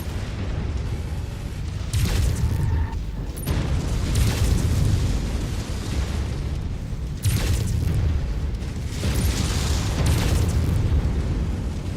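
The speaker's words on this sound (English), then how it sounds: "Incoming missile." Missile strikes landing in a military video game, deep booming blasts rolling in at about 2, 4, 7 and 9.5 seconds over a constant low rumble of battle noise, with no talking.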